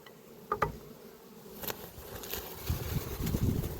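Honey bees buzz around open hives during spring feeding, a close, uneven drone with individual bees passing the microphone and scattered soft taps and rustles of frame handling.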